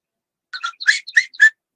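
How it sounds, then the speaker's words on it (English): Outdoors on a morning, a bird sings a short, bright burst of chirps and whistled notes, about five quick phrases, close and clear against silence. "I can hear the birds."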